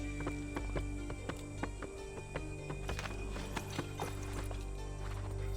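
Hooves clip-clop in a quick, even rhythm as a horse gallops in the video game Assassin's Creed III, mid-loud over a low steady hum, with no talking.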